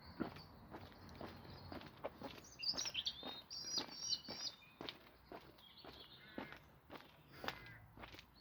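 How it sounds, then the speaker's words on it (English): Birdsong on a spring morning along a village footpath, small chirps and tweets scattered high above steady walking footsteps, fairly faint and distant. "Birds are singing this morning."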